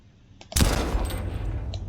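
The Titan gun fires in the video game Dawn of Aurora. A loud, sudden blast breaks a near-silence, then a dense, sustained roar of rapid gunfire follows.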